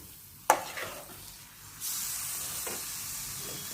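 Young jackfruit and potatoes fry in a pan, gone soft and mashing. A single sharp knock of a utensil comes first, then a soft, low hiss of frying rises and carries on quietly.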